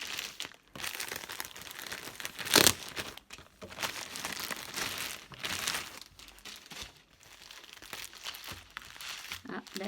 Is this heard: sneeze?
no